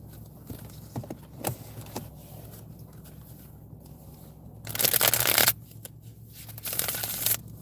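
Tarot cards being shuffled by hand, with faint taps and riffles that break into a loud flurry of slapping and dropping cards, followed by a quieter shuffle.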